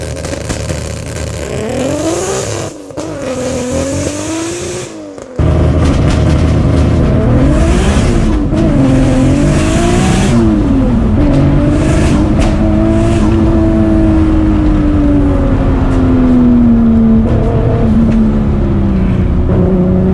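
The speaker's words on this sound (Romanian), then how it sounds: "o să ne demonstreze un launch control" An 800-horsepower Nissan Skyline does a launch control start, the engine first held at high revs, then roaring loudly as it accelerates hard through rising and falling gear pulls, very close and continuous.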